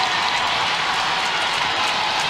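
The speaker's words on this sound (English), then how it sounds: "You hear the Songus crowd cheering on the home team, Boston, in the late stages of regulation." Home crowd at a Boston professional women's hockey game against Montreal roars steadily in the late stages of regulation, a loud continuous wash of cheering and clapping with no break.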